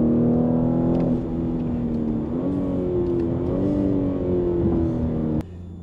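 A BMW M3/M4 engine revs steadily with a strong droning tone, the pitch stepping up a couple of times before cutting off abruptly near the end, close and loud with no talk.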